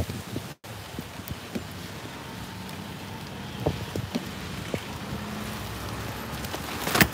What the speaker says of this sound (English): I guess the rain is coming down.